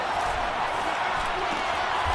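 Football stadium crowd rising late in a close game as a team goes for a two-point try, a dense, loud, continuous roar of cheering voices with no breaks.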